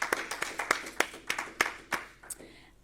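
A small group at a journalism awards presentation claps briefly, with about a dozen uneven hand claps that quickly thin out and fade away.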